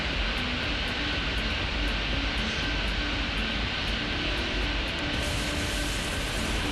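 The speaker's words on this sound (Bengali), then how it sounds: "এখান থেকে আমি একটা প্লেনকে টেক অফ করতে বলে দিয়েছি" An airplane taking off in the Plane Lander City airport video game: a continuous, even jet engine roar that holds steady at moderate loudness without a break.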